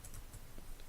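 Keys tap on a computer keyboard as numbers are entered, a few quick light clicks spaced irregularly, faint and close, with no speech.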